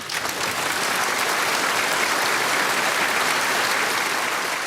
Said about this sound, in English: Everybody was applauding, and nobody was stopping.